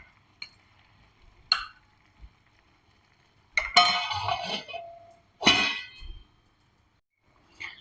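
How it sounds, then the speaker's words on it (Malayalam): A metal spoon clangs against a pot while pumpkin and green bean olan, a Kerala Onam dish, is stirred: a few sharp isolated knocks, then two longer bursts of scraping and clattering, close and fairly loud. "ഇനി നന്നായിട്ടൊന്ന് ഇളക്കിയിട്ട് ഒന്നും കൂടി അടച്ചു വെച്ച് കൊടുത്തിട്ട് ഒന്ന് നന്നായി വേവട്ടെ"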